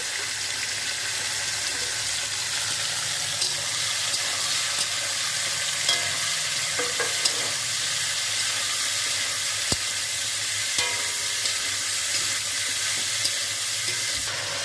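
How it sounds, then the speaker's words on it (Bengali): Carrots, cauliflower, beans and capsicum fry in hot oil with a constant close sizzle and a few sharp clicks and stirring knocks, no voices heard. "তেলটা ভালো করে গরম হয়ে গেছে, এটা সম্পূর্ণ দিয়ে ভালো করে ভেজে নেব।"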